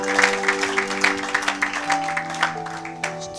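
A church congregation at a Congolese worship service claps and cheers, with rhythmic applause over a sustained musical backdrop in a short, lively burst.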